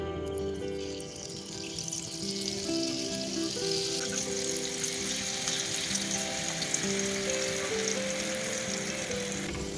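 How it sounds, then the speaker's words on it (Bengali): Boondi batter for motichoor laddu drips into hot oil over a medium flame and fries with a steady, dense sizzle that holds at an even level from start to finish, with no talking. "এবার এই ব্যাটারটা আস্তে আস্তে তেলের মধ্যে দিতে থাকবো"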